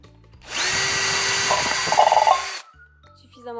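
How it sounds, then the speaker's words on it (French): An electric drill bores through a tin can with a bit, a loud, steady high whine lasting about two seconds that roughens and grinds as the bit cuts the metal, then cuts off abruptly, heard alone. "il s'agit de percer la boîte de conserve avec un foret suffisamment"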